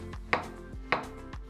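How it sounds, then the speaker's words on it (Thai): A knife slices through an onion on a cutting board in a kitchen, a few crisp, evenly spaced chops heard close up with no talking. "ผมก็จะซอยตัวหอมใหญ่นะครับ"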